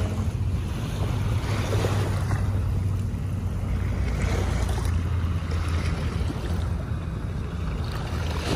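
Sea waves slosh and splash against a small boat at sea, a steady rushing wash with low rumbling and wind buffeting the microphone, continuous and close, with no talking.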